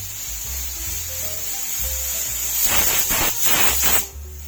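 A pressure cooker whistle hisses in steady bursts of steam, loud and near, over a low hum of background music, while carrot halwa cooks.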